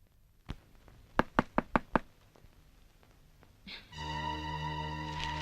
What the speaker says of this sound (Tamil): அவ அங்க கதவை தட்டிட்டு இருக்கா